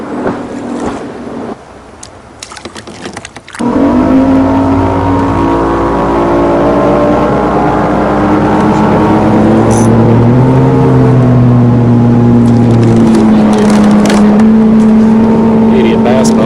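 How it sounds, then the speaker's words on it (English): A bass boat engine roars in loud and close, its steady drone shifting in pitch as it speeds past along a small creek, with faint talk near the start. "Here comes a bass boat on me."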